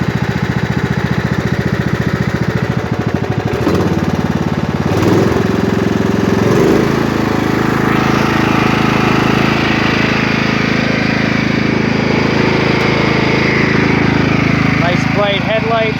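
A 1998 Craftsman DLT lawn tractor with a 16.5hp Kohler Command engine and 46-inch hydrostatic deck runs loud and close, its engine rumbling steadily, stuttering briefly early on before settling into a smooth, continuous drone.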